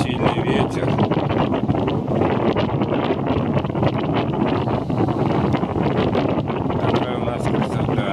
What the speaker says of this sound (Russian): но очень сильный ветер.